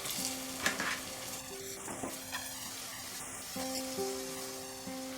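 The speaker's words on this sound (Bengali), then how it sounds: "আদা রসুনটা ফ্রাই করার পরে এবারে আমি দিয়ে দেব এর মধ্যে চিকেনের পিসগুলো।" Chicken pieces frying with ginger and garlic in a pressure cooker for chicken biryani give a steady broadband sizzle with scraping stir strokes and a few sharp clinks, moderately loud and close, with no talking.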